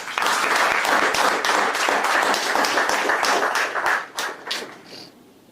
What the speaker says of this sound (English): a small round of applause for everybody here